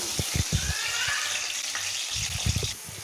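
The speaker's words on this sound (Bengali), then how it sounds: "এই পটলগুলো আমাকে এই তেলে ভালো করে ভেজে নিতে হবে।" Pointed gourds (potol) frying in hot oil, a steady sizzle with a faint hiss and a few soft knocks and clatters of utensils, close and alone.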